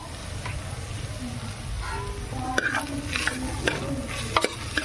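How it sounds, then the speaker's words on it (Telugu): Carrots and beans fry in a pan with onions, giving a steady sizzle and occasional scraping stir, with a voice faintly behind it. "ఇప్పుడు మనము బీన్స్ క్యారెట్ రెండు వేసుకొనేసి వేయించుకుంటాము"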